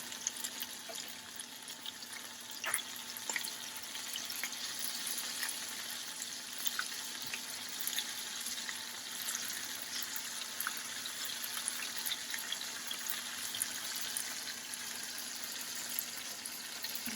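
Bacon-wrapped beef medallions sizzle in a frying pan with a steady, close crackling hiss and occasional sharper pops, with no talking.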